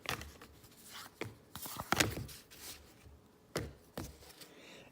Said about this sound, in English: I'm just trying to shuffle